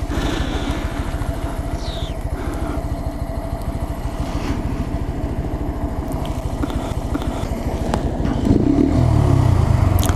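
A small Honda Grom motorcycle on a chilly morning commute gives a loud, steady engine drone with rapid low pulsing and wind rush from the rider's position, rising slightly near the end.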